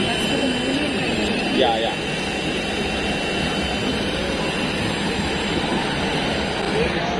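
Motors of a surveillance drone prototype throttle up into a steady, loud whine and roar that runs the whole time, with people talking briefly over it.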